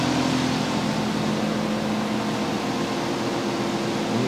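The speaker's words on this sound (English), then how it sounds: "And in the distance, that noise you hear, that's Carlos over there dusting a rug." A rug is being dusted some distance away during rug cleaning work, producing a steady, dense mechanical roar that holds constant throughout, with no pauses and no voices.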